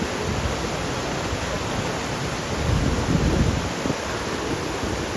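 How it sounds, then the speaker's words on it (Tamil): Waterfall at the Sita Devi temple in Ashok Vatika, Nuwara Eliya, Sri Lanka, pouring steadily in a dense, continuous roar that swells slightly midway, with no voices. "இந்த அருவி தான்"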